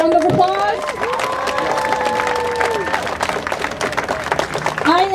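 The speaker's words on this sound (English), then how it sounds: "Give yourself a round of applause." Protest rally crowd applauding and cheering outdoors, with clapping under loud voices and shouts.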